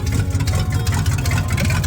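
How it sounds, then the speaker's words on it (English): A 1977 Chevrolet K10 truck engine runs on its first start with fresh fuel and new plugs, open straight from the manifolds with no exhaust, giving a loud, rough, steady rumble. "The short clip coming up is its first start with some fresh fuel and some better plugs."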